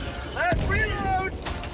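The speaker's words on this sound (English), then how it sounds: "Let's reload!" Weapon reloading in the video game Helldivers 2, a quick burst of mechanical clicks and clatter with a sharp metallic snap, mixed with a muffled thud and game sound effects, fairly close and loud.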